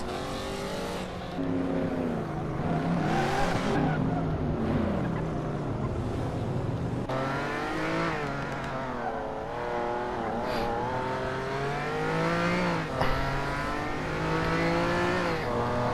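Race car engines in the Hot Wheels video game, several cars revving and droning together with rising and falling pitch as they accelerate and shift, a steady close roar throughout.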